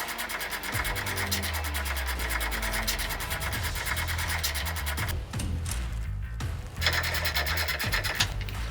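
A nut being wound by hand down the threaded bolt of a ball joint on a Mazda B2200 / Ford Courier, a close, steady rasping and scratching of metal on thread with a brief pause partway through.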